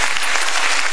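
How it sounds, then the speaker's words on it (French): Loud, dense applause from a theatre crowd at a comedy stage show, welcoming a participant called up from the audience; a continuous roar of many hands clapping close and full. "on a notre candidat, on l'applaudit très fort."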